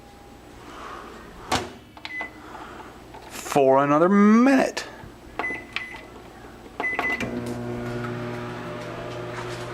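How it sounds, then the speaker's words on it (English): A microwave oven heating corn: short electronic keypad beeps, a door clunk, then a steady low hum as the oven runs, with a person talking between the beeps. "and then place it in said microwave"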